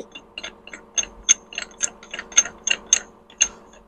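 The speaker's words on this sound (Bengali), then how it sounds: "রিং ডাল দিয়ে বা রিং ব্যবহার করে এই বোল্টগুলো আমাকে খুলতে হবে" Ring spanner working loose the bolts on a car differential, giving a run of sharp metallic clicks and ratcheting ticks in an uneven rhythm, close and moderately loud with no talk.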